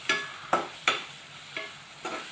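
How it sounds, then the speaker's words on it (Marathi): Chili powder stirred and sautéed in hot oil in a pan, with five distinct scraping stirs at an uneven rhythm over a faint steady sizzle, heard up close. "हे आपण व्यवस्थित तेलात परतून घेणार आहोत तिखटसुद्धा पहा म्हणजे तिखट तेलात परतायचं आहे"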